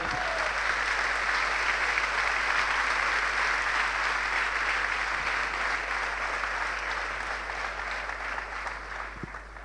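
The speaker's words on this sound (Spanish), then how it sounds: "Denle un aplauso a Dios." Church congregation applauds during a Spanish-language sermon, a dense, loud, steady wash of many hands clapping that holds for nearly ten seconds before easing slightly at the end.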